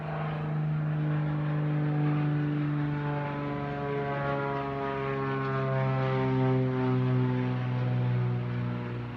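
A propeller airplane passes overhead, a steady low droning hum with strong tonal layers that holds evenly throughout, fairly faint and distant, with no voices.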